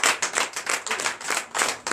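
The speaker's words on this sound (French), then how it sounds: "Donne l'acclamation à Jésus." Congregation clapping in acclamation at a night prayer service in Benin, a loud, close, rhythmic burst of hands in quick regular beats with brief dips between pulses.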